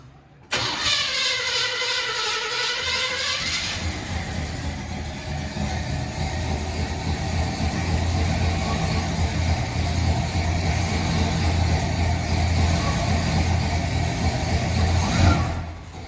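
A 1981 Oldsmobile Delta 88 with a swapped-on Buick carburetor cranks on a flooded engine: a starter whine rises briefly, then a loud, rough, steady engine drone runs close up for over ten seconds before cutting off.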